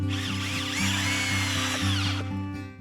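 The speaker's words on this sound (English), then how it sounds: "Using these good screws just to help secure a couple of the culms" A power drill drives screws through bamboo culms to join them for a homemade tomato support, giving a close, loud whirring drone with several short bursts and pitch dips as the motor spins up, strains and releases.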